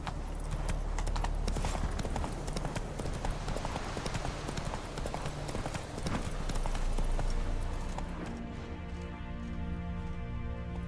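Roach, a horse in the video game The Witcher 3, gallops with steady, rapid clip-clop hoofbeats that run loud and continuous throughout, thinning slightly near the end.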